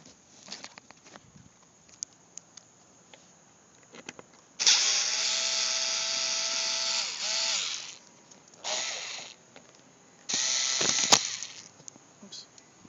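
A power driver backs a screw out of a Mini Cooper convertible top in a couple of loud whirring bursts, close to the mic, separated by short pauses and small clicks of handling.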